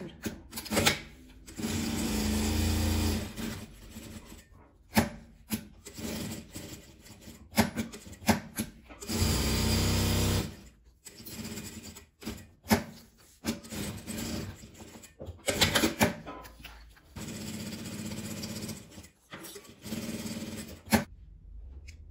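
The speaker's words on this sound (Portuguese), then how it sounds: "Vou virar ele aqui e vou passar a costura." A sewing machine stitches a plastic pacifier pouch in bursts of whirring, mechanical stitching. Short runs alternate with pauses and handling clicks, close and fairly quiet.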